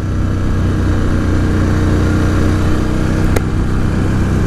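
A 2018 Ducati Scrambler 1100 Special on the move, its engine a loud, steady drone with a constant rumble under rushing wind, holding even throughout apart from one sharp click near the end.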